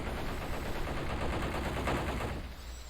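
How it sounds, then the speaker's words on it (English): Dense, continuous gunfire in a war video game, rapid overlapping shots forming a steady wash of automatic fire at moderate level, with no speech. "They're opening fire."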